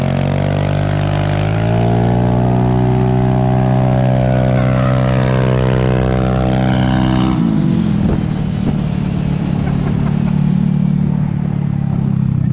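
Mini bikes revving hard in a street drag race, a loud close engine drone climbing in pitch through the gears, then dropping and settling into a steadier roar as the bikes run on.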